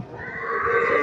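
A dairy cow at a cattle market gives one brief, close, rising low call that holds steady for about a second.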